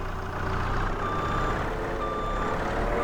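A skid steer in the Farming Simulator 25 video game backing up, its steady repeating reverse beeps sounding over a constant low engine drone.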